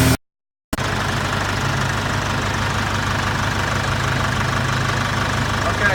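Tractor engine held at low RPM while driving a feed grinder rolling oats, a steady loud rumbling drone after a brief cut at the start.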